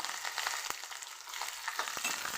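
Green chilli and onion frying in hot oil with curry leaves for a sprouted matki usal, a quiet, steady hiss of sizzling broken by a couple of soft stirring taps.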